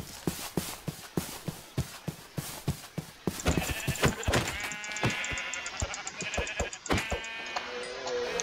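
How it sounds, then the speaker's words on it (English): A large flock of sheep bleats in the RLCraft Minecraft game, with many overlapping loud bleats that grow denser halfway through, layered over a rhythm of rapid thumping footsteps. "is that a whole horde of sheep?"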